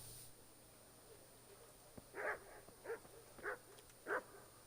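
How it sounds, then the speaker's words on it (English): A dog in the medieval video game Kingdom Come: Deliverance gives four short, faint whimpering yelps spaced about evenly apart, over quiet background ambience. "I can't play with you now, dog."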